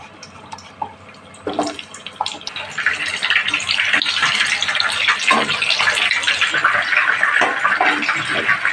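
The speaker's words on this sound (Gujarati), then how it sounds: "કડાઈમાં તેલ મૂકી દીધું છે અને આપણે આ ડુંગળી છે તેમાં આપણે તળી લઈએ બંને સાઈડ" Whole onions fry in hot oil in a kadai, a bright hissing sizzle that surges loudly after an initial clatter and stays dense and continuous.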